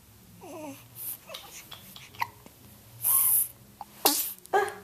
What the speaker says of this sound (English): Oh, goodness, you sneeze a lot.